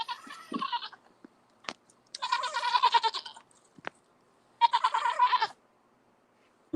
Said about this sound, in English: Goat's body makes some funny noises